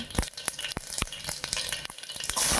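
Onions frying in oil with popped mustard seeds inside a pressure cooker, a close, busy sizzle broken by a series of sharp stirring scrapes and taps.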